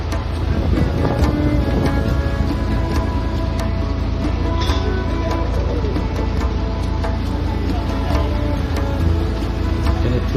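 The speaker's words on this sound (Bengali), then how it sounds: "প্রচন্ড হাওয়া।" Strong wind roars steadily and close across open water in the Sundarbans during a hilsa festival outing, buffeting the microphone with a constant low rumble and no clear speech.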